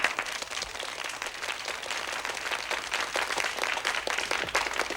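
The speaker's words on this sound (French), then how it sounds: "On l'applaudit bien fort." A French television studio audience applauds a young woman, producing a dense, continuous round of clapping at steady volume throughout.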